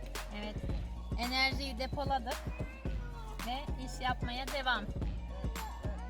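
A cat meows in a garden where vine leaves are being picked, several short calls scattered through the clip among nearby talk from a woman and a child.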